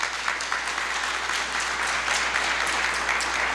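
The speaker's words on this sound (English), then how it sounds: "Can we have a round of applause for Michelle?" Attendees at a 2020 Census town hall meeting in Erie County applaud, a sustained, even wash of many hands clapping in a large room, moderately loud and unbroken, with no one speaking.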